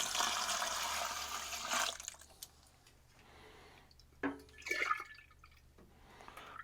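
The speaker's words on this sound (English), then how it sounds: "Drip, drip, drip." Evaporust rust remover drips and pours into a bucket, with a loud run of liquid at first, then a quieter gap and a few splashy drips and clinks.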